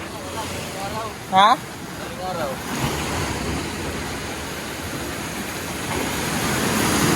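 Strong surf breaks and washes continuously along an island shore, a broad roar with wind buffeting the microphone, while a person briefly calls out early on.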